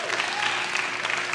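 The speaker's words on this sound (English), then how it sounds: "Please, a round of applause for Jensen here real quick." A live audience claps steadily for a man named Jensen during a talk titled Strength to Serve, dense continuous applause filling the room without a break.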